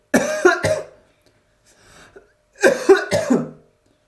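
Two sharp bursts of coughing, each a quick cluster of two or three coughs, close and loud, separated by a short quiet pause.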